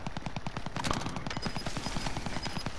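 Rapid automatic gunfire in Call of Duty: Modern Warfare, with dense repeating bursts that crack steadily through the whole moment, loud and close, alongside a few faint electronic beeps and no talking.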